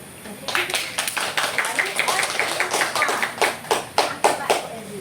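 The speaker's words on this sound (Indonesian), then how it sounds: "Tepuk tangan dulu" Brief audience applause at a Gen Z eco enzyme outreach session, a crowd clapping in quick uneven patter with a few sharper claps standing out near the end, moderately loud in a room.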